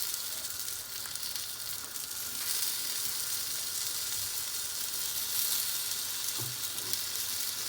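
Ravioli browning gently in a frying pan give a constant soft sizzle with a few light crackles, heard alone without speech.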